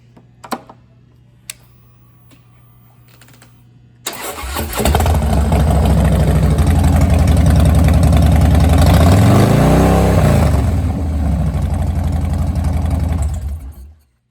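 A 2014 Harley-Davidson Dyna Street Bob with a 103 engine and Vance and Hines pipes fires up after a few faint clicks, then settles into a loud, steady, close idle with a brief rev partway through.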